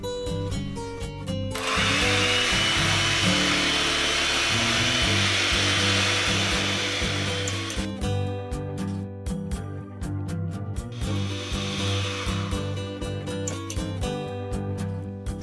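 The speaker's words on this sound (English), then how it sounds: "I'll add a pinch of salt to the egg white and then we whisk." Egg whites with a pinch of salt whipped in a bowl while making a chocolate cake, giving a loud, steady whirring and rattling in two long bursts, the second shorter, over soft background music.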